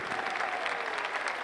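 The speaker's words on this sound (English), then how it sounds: "And the crowd goes crazy." A crowd at a percussion convention breaks into dense, steady applause, a continuous wash of many hands clapping at once that holds evenly throughout.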